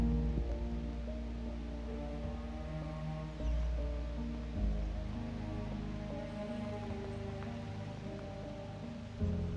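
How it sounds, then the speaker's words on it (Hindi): Heavy rain falling in Bandhavgarh National Park, a steady dense hiss of drops heard at moderate level, continuous throughout with a few soft low thumps and no voices. "तेज बारिश शुरू हो गई।"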